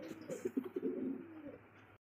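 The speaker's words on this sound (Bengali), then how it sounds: "সেখানে আরো এক জোড়া লাহোরি কবুতর" A pair of Lahori pigeons at a pigeon dealer's lofts coo softly in rolling, repeated phrases. The sound is continuous, close and fairly quiet, with no talking.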